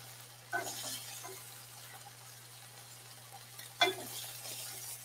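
Thinly cut meat searing in a hot pan during a live cooking demonstration, a quiet continuous sizzle with two louder bursts of spatting and utensil scraping, over a low steady hum.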